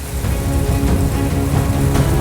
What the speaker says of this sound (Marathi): तुफान कोसळणारा पाऊस, पाण्याखाली जात असलेलं गाव